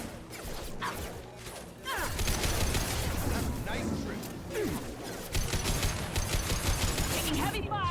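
Heavy gunfire in the Mass Effect 2 video game rattles in dense bursts with mechanical clanks and impacts, growing louder after the first couple of seconds, with a voice talking over it.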